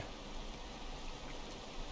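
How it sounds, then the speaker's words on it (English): Rain falls in the video game Rain World as a faint, steady, even hiss of pattering drops that continues without pause. "It's raining."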